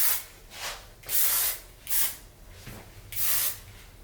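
Hairspray hisses from a can onto crimped short hair in four short bursts of about half a second each, close and bright, separated by brief quiet gaps.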